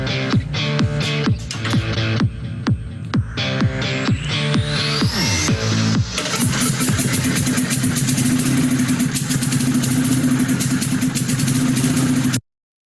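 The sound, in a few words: single cylinder engine running on straight gasoline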